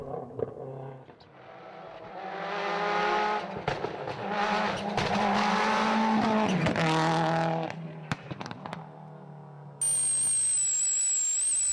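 Tony Bardi's Nissan rally car races past at night on a stage in the Tour of Mull, its engine rising to a loud howl and then fading, with a sharp crackle of backfire near the end.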